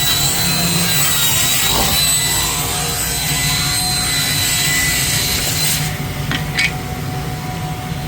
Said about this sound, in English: it's just easier to rip boards this length than it is that length to be perfectly accurate